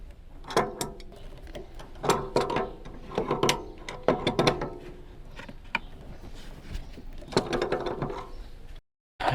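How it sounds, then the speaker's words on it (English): A wrench tightening a fitting on a van's hot water heater install, heard as a run of close metallic ratcheting and clicking bursts in an irregular rhythm, with tool handling between bursts and no talk. "Let me get a wrench."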